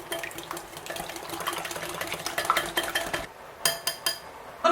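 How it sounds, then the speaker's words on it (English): Peanut batter ingredients with vanilla and salt are mixed in a bowl, a utensil clattering and scraping against the sides in quick, uneven strokes, close and fairly quiet, with brief pauses. "Then I'm going to mix."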